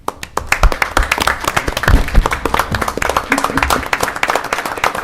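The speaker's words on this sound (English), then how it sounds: "a round of applause is in order" Close, loud applause at a county fiscal court meeting honoring a departing member, with distinct individual claps in an uneven, lively patter throughout.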